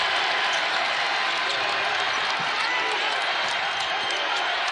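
A college basketball crowd at Freedom Hall rising to its feet and cheering, a dense continuous roar with a commentator talking over it.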